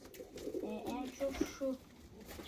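Pigeons, including long-faced breeds, coo in a loft with repeated throaty rolling calls near at hand, over a low room hum.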